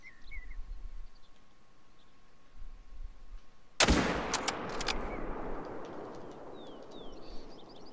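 A single 30-06 bolt action rifle shot fired while hunting outdoors, one sharp loud crack followed by a long rolling echo that fades slowly, with faint birdsong before the shot.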